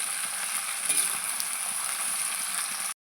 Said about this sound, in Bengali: এবার এগুলোকে একটু ভালো করে ভাজা ভাজা করে নেব।